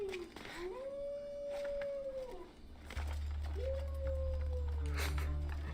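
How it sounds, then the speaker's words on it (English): A wolf in the video game Assassin's Creed Odyssey, up on castle battlements, lets out two long, sustained howls that rise and hold steady, set over an ambient game background with a low rumble joining partway through. "If it's a wolf that's up on the battlements, I understand howling all the time."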